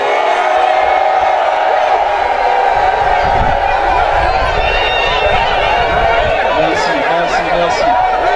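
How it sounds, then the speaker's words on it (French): Crowd at an association meeting cheering and acclaiming, a loud, continuous roar of voices, shouts and chatter filling the whole stretch, close and busy with no pauses. "levé avec acclamation"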